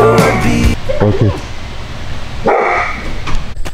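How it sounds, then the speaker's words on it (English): A dog barks loudly in short bursts near a public restroom, a few sharp woofs at the start, a pause, then another yelping bark, close by with some rough growly texture between. "the dog was just like really growling and barking"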